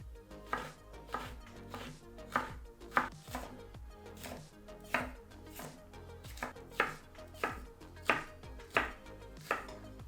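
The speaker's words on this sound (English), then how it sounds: "I am cutting the cucumber into diagonal slices, then cutting those slices into matchsticks." A knife slices a cucumber into diagonal pieces and then into matchsticks on a board, giving a steady run of close, crisp chops over soft background music.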